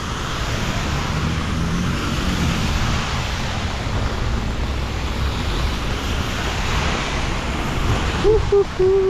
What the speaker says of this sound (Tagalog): daming sasakyan dito sa Banning so oh